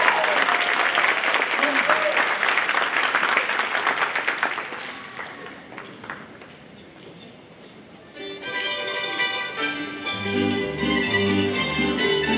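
Applause from a concert audience welcoming a junior tamburitza ensemble of string players, a loud dense clapping that fades down, then the ensemble begins playing plucked strings.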